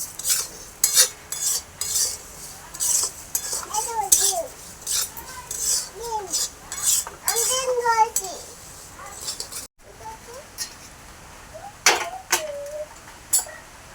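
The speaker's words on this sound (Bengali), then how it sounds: "মুগ ডালটা আবার ভেজে নেব" Moong dal dry-roasts in a pan for khichuri, stirred with a metal spoon in repeated scraping, clinking strokes, while a voice and an adult voice talk intermittently nearby.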